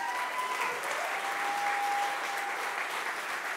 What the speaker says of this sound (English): So I would like you to clap so it's not weird